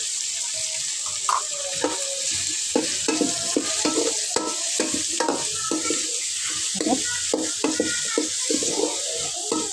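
Masala with turmeric fries in a pan for crab sukka while being stirred, giving a continuous sizzle punctuated by frequent, irregular clinks and scrapes of the spoon, loud and close.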